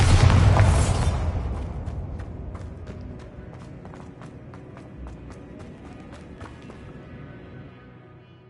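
A Bombarda explosion spell in the video game Hogwarts Legacy bursts loudly in the first second, then a long rumbling decay trails off with scattered sharp crackles and ticks over several seconds.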